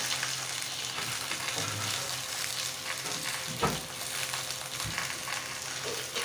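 Silver carp fish wrapped in pumpkin leaves fries in mustard oil for a paturi, giving a constant dense sizzle with occasional soft knocks and clatters from the pan.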